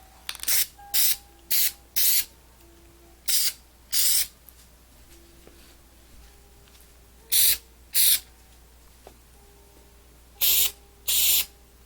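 Short bursts of spray paint hiss onto a model race car for its first coat, about ten separate blasts of one to two seconds each, close and loud, with quiet pauses between them.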